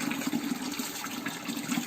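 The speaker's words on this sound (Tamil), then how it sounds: "நல்லா அலசிட்டு ஊற வச்சுருங்க" Raw rice being rinsed by hand in water for Kerala kalathappam gives a close, steady swishing and sloshing, soft and continuous for a couple of seconds.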